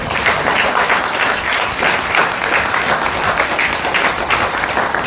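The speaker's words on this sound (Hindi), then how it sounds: "एक बार हमारे आदरणीय प्रधानमंत्री जी के लिए तालियां।" Loud, sustained crowd applause for the Prime Minister fills an Independence Day gathering, a dense unbroken roar of many hands clapping at once for the whole stretch, with no talking over it.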